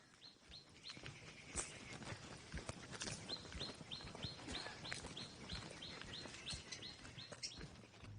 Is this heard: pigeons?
yes